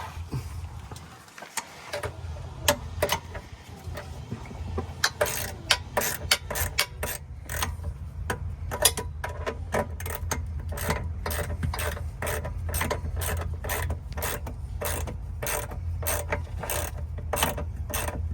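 A wrench being worked on the top nut of a rear sway bar link on a Nissan Stagea, a long run of close, rapid metallic ratcheting clicks in steady bursts with short pauses.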